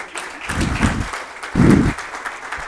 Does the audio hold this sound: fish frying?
no